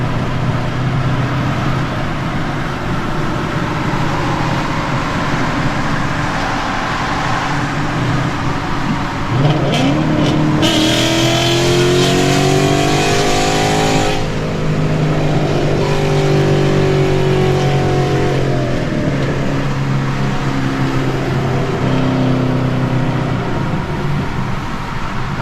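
A Ford Mustang S197 with a full exhaust accelerates hard from the driver's seat, its loud engine note climbing in long rising sweeps through the gears over constant road and cabin roar.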